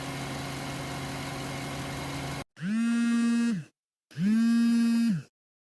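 A vehicle's engine: a rough, noisy rumble runs at first, then two identical droning revving bursts follow, each cut off by a short silence.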